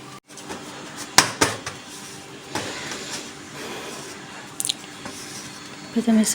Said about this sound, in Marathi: थोडं थोडं पाणी घालायचं आणि असं चांगलं मिक्स करून घ्यायचं त्याने काय होतं पीठ व्यवस्थित मळलं जातं